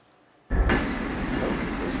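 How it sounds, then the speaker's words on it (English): A train passes in Train Sim World on the Caltrain line, arriving with a sudden loud rush of rumble and wheel noise that holds steady and close. "Oh, there's a train."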